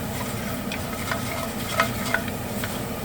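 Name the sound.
carrots and pot roast drippings sizzling while being stirred in pot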